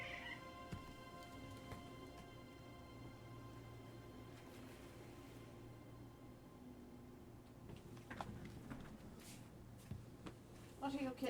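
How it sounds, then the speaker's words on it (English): Kittens mew faintly in a quiet room, brief scattered calls under light rustling and small tapping sounds, with a low steady hum in the background. "What are you kittens doing?"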